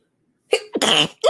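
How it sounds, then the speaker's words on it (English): A sharp, explosive sneeze bursts out close by, followed by a quick breathy exhale, standing alone in otherwise quiet surroundings. "I got to sneeze, man."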